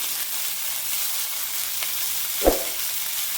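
Ridge gourd frying in a pan with fried potatoes and ground spice paste, a steady close sizzle with a single knock of a spoon or spatula near the end.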